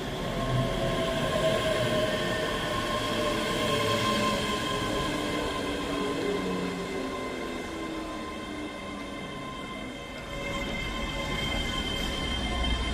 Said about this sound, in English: Scotrail service from Glasgow Queen Street. Wait, no, Dunblane to Edinburgh Waverley.